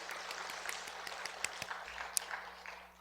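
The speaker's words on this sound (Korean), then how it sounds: "하나님께 영광의 박수 올려드리겠습니다." A church congregation at an evangelism gathering gives a round of applause. The clapping is moderate and scattered, with a few sharper individual claps and a low steady hum beneath, and it fades out near the end.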